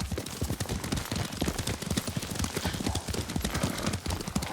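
Rapid, steady clip-clop of horse hooves at a gallop in the video game Ghost of Tsushima, close and loud, with a rhythmic thudding beat throughout.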